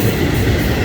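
A Florida East Coast Railway double-header freight train passes close by at South Daytona, Florida, filling the moment with a loud, steady, broadband rumble and rolling rail noise, with no voices.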